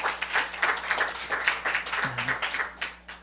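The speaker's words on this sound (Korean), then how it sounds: "우리 하나님께 박수 올려드려요" A church congregation claps during a Korean Sunday service, with scattered, uneven hand claps at moderate volume filling the short stretch and no speech over them.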